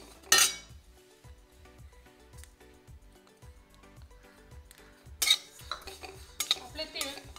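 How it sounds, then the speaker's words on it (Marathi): Sesame seeds roast in a hot kadhai while a spatula stirs them, producing repeated soft metallic scrapes and taps against the pan, with a couple of louder clanks, quiet and close, with no voices. "त्यात आपण तीळ भाजायला घेऊ."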